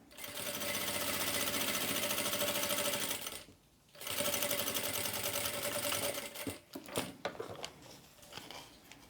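A sewing machine stitches a seam close to the zipper teeth of a fabric baby toiletry or makeup pouch using a machine foot. Its fast, steady motor runs loudly for several seconds, pauses briefly, then resumes before slowing into short, uneven bursts.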